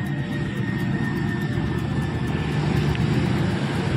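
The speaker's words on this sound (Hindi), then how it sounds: "बाइक्स आ रही हैं, बाइक्स" Steady low engine rumble of motorcycles rolling past, continuous and fairly loud, with traffic noise throughout and no talking.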